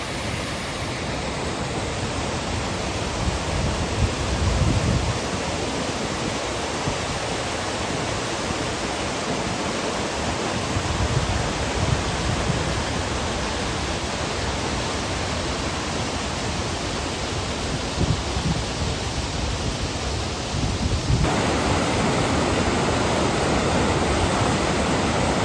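Hardraw Force waterfall heard from the top, a constant broad rushing roar of falling water that stays steady and moderately loud throughout with no voices.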